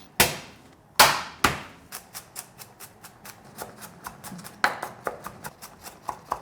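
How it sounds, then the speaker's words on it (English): Six large garlic cloves smashed one by one on a cutting board: two heavy thumps open the series, then a quick run of sharper, lighter knocks, all close and clear. "6 large garlic cloves. Let's smash."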